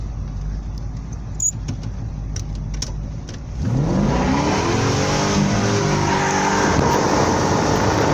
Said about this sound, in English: what sort of motor have you just put in it, mate? 350 Chev.